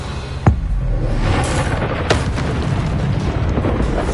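A Bombarda explosive spell blasts in Hogwarts Legacy gameplay: a sharp burst gives way to a sustained rolling rumble, with a second crack a moment later and debris-like rumbling continuing throughout.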